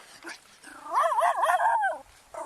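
A dog whimpers and yips in a rising, wavering whine, a close plaintive cry lasting about a second, with quiet background before and after.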